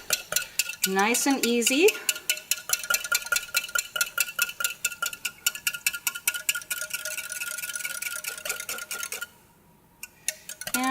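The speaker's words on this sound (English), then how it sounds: "I'm just going to whisk it together" A whisk clinks briskly and steadily against a bowl, blending ingredients for a cooling antioxidant eye gel meant to become a thin gel; a voice speaks briefly at the start, then the rapid metallic ticking continues close and alone until a short pause near the end.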